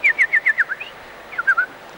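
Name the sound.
people imitating bird noises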